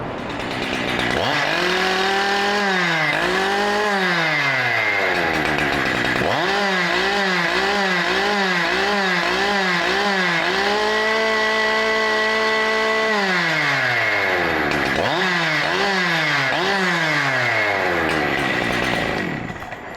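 A chainsaw with a modified exhaust revs loudly in repeated bursts, rising and falling in pitch with short idle dips between, close and continuous throughout.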